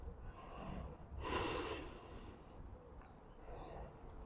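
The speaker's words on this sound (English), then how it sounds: "Taking some nice deep breaths." Deep breathing while resting in a yogic squat during a power yoga session, soft close breaths with one stronger airy inhale-exhale in the middle and quieter breaths after, faint overall.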